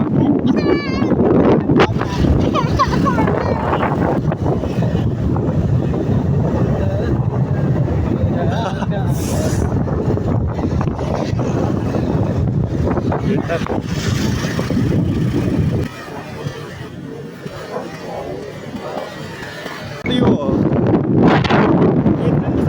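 Wind buffets the microphone with a heavy low rumble while people talk over it, the gusts briefly dropping away before returning.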